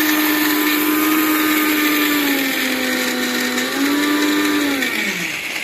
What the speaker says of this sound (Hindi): अब इसे हम मिक्सी में चलाते हैं, फिर आपको दिखाते हैं।